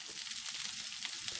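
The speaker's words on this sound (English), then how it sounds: "you can hear it crackling and sizzling" A vegan sausage fries in a hot pan over high heat for a jambalaya, giving a steady, dense crackling sizzle that runs without a break from start to finish.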